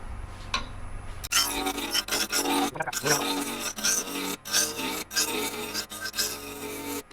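Wood turning on a lathe spinning at about 1400 RPM while a tool works a small box blank, giving a continuous close scraping, rasping hiss broken by short pauses as the cut starts and stops.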